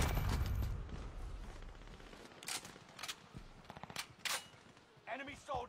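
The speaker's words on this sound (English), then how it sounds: "Shooting through them tanks like that." Video game gunfire aimed at tanks: a quick series of sharp shots at moderate loudness, mixed with game sounds and bits of speech.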